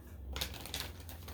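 Playing cards riffle and snap in a quick burst of a few crisp flutters, close and fairly quiet, with no one speaking.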